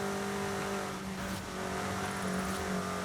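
A front-wheel-drive Toyota in the racing game Forza Horizon 5 drones with steady engine and intake noise, a continuous mid-pitched hum with sustained tones that holds level throughout, no voices present.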